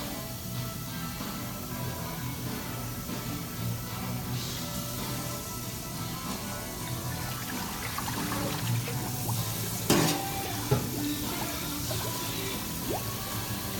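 Steady pouring of sanitized water splashing into a frozen drink machine, continuous and moderately loud, with a couple of brief clunks partway through.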